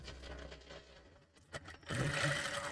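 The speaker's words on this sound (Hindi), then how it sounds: "उस पे हमें एक सीधी सिलाई लगाना है" A sewing machine runs a straight stitch along a blouse sleeve, a steady mechanical whir that fades briefly mid-way, then returns louder and denser, close and alone with no talking.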